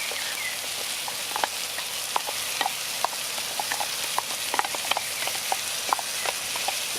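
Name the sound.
onion and ginger frying and being stirred in dutch oven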